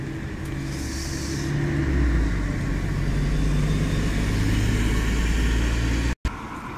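Bus YJ59BRZ passing at a stop in Castleford: a moderate engine rumble that swells and then fades over several seconds, with a steady low drone and no talk.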